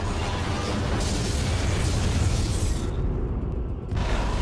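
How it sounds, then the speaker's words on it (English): A Romulan starship blows up in the Star Trek Legacy space combat game, a loud, sustained rumbling blast with dense low-end roar that holds steady for several seconds and briefly thins before surging again. "Romulan target destroyed."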